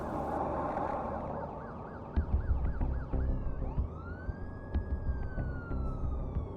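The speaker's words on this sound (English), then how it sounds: "He thought to himself as the police car drove by." A police car siren wails as the vehicle drives past, its rising and falling tone gliding through the scene over steady traffic rumble and nearby engine noise.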